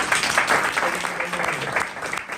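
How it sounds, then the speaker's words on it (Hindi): A church congregation at a convention in Chhindwara applauds together, a steady wash of many hands clapping filling the hall for a couple of seconds. "क्या फिर से ताली दे सकते हैं?"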